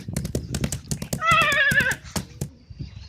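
A horse gives a loud, close whinny, a single wavering neigh lasting under a second, amid rhythmic clip-clop of hooves, with faint voices around it.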